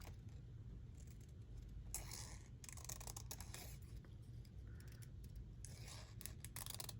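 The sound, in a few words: trimming paper with scissors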